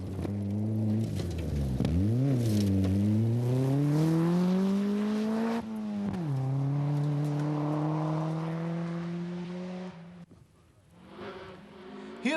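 A 1989 Peugeot rally car races flat out on the Craigvinian forest stage in Perthshire, its engine note climbing and dropping through gear changes, loud and close, then fading briefly before it picks up again.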